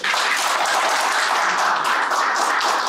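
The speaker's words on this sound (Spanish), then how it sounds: "Un aplauso, por favor." Sustained applause from the audience at a panel on interactive storytelling at a Ventana Sur 2022 games event, a dense, steady wash of clapping filling the whole stretch without a break.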